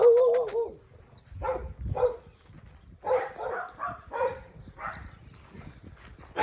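A neighbor's dogs near a house for sale bark in a series of sharp yaps and woofs at mid distance, some higher yips at first and then irregular repeated barks.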